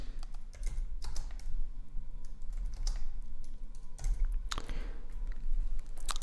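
Shell commands being typed on a computer keyboard: a steady run of close, crisp key clicks with occasional heavier strokes, alone and without talk.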